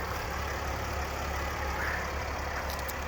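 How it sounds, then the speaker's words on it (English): A 2010 Mercedes GL350 Blue Efficiency diesel idles just after starting, a faint, steady low hum with no talking. "the engine started"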